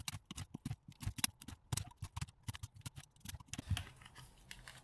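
Hook blades snipping through the wire strings around a food processor motor being scrapped, a rapid series of close, crisp cutting clicks and snaps.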